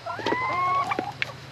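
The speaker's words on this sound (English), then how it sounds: "The Dolly's the boss of the hens here." A hen clucks and makes drawn-out warbling calls close by, a short series of throaty notes over quiet background noise.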